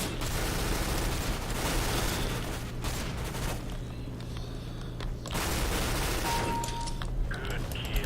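Rapid machine gun fire in Counter-Strike: Global Offensive, a dense continuous burst that briefly drops, then resumes loud and sustained.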